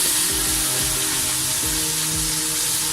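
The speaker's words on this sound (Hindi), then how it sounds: "तो अब हम इसके अंदर अदरक लहसुन का पेस्ट डालेंगे। 1 मिनट के लिए अच्छी तरह मिक्स कर लेते हैं।" Ginger garlic paste sizzles loudly in hot oil over browned onions for chicken biryani, with a steady frying hiss and the rhythmic scrape of a spoon mixing it around the pan.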